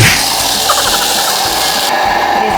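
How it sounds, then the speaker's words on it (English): A Thermomix runs at top speed 10 grating chocolate, a loud dense whirring grind with rattling bits of chocolate, steady for about two seconds before the motor cuts off abruptly. "So now it wants us to go 10 seconds at speed 10. That's grating."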